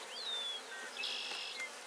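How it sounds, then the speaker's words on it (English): Honey bees buzz on hive frames, a faint close hum with individual insects whining past in rising and falling passes, no voices. "there's lots of bees in there now with eggs"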